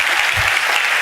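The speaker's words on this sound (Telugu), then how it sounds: "చప్పట్లు కొడుతూ దేవునికి స్తోత్రాలు చెప్దాం" Church congregation clapping in praise to God during a sermon, a dense, loud burst of applause filling the whole moment.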